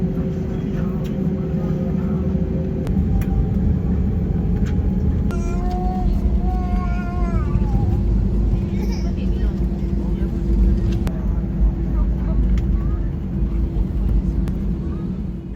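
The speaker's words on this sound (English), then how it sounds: "Interesting pushback procedure." Steady engine and ventilation hum inside an Air New Zealand domestic airliner's cabin during pushback from the gate, droning evenly with tonal whines and shifting pitch, with people speaking faintly in the cabin.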